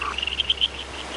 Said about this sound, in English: You can hear our noisy croaks all the way down the valley, especially during breeding season